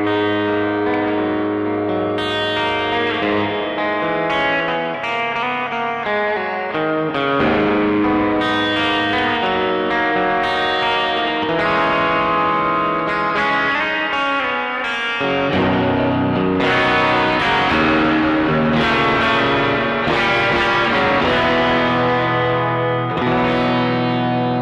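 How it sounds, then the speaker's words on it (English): Electric guitar run through a TC Electronic Plethora X3 pedal with the reverb turned up, sustained chords and notes ringing into a long, washy tail, played steadily alone without talk. "Turn the middle knob, get more reverb."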